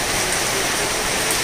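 Steady, dense rain patters down loudly and evenly, a continuous wash of falling drops with no voices heard.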